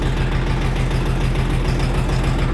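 A vehicle engine idles steadily at about 750 rpm, a loud, close, even low-pitched throb with a regular pulsing rhythm and no talk over it.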